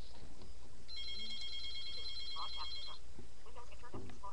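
A telephone rings with one long electronic trill of rapid pulses lasting about two seconds, heard indoors in a quiet room with faint background sounds and no clear speech.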